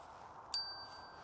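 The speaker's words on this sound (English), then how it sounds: "gonna put this bell on your grave." A small bell placed on a grave gives a single bright ding that rings out and slowly decays over quiet background hiss.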